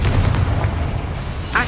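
A Confringo fire-blast spell cast in the video game Hogwarts Legacy, a loud rumbling boom that carries through the short clip with a sharp burst near its end.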